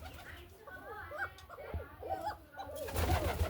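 Pigeon coos and soft bird calls from a pair of silver Lahori pigeons, close by and moderately loud, several short cooing phrases across the clip, with a louder rustling burst near the end.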